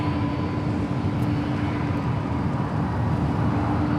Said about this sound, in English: couple of FedEx 767-300 freighters going to be taken off